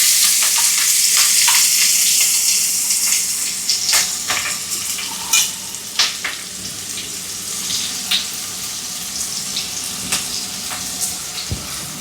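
Spices crackling in hot oil in a pan for Konkani stuffed brinjal, a loud continuous sizzle with sharp popping crackles scattered throughout.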